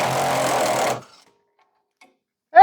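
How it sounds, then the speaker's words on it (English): An impact wrench hammering on a leaf spring bolt during a rear suspension job, a loud rapid rattling burst for about a second that cuts off into silence. "So we're going to give it a little impact and hope this works."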